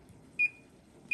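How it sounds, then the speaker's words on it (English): An oven's control panel gives two short, clear electronic beeps about three-quarters of a second apart as the oven is switched on, against a quiet kitchen background. "I'm going to turn the oven on to"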